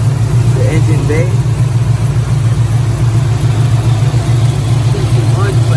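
Cammed 2016 Chevrolet Silverado Z71 V8 with long tube headers and cold air intake idling loudly with a lumpy, loping low rumble, steady and close; a voice talks faintly over it.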